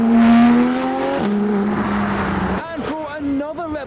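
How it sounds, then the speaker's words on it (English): A Ferrari 250 California Spider replica drives past at a car show, its engine note rising then dropping as it goes by, with other engine sounds and crowd noise around it. "Ferrari 250 California Spider"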